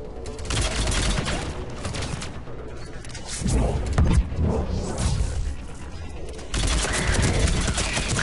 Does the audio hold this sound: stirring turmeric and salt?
no